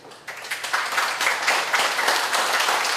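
An audience at a Baptist pastor's inauguration ceremony in a church breaks into applause. It swells quickly into steady, dense clapping from many hands that lasts a few seconds.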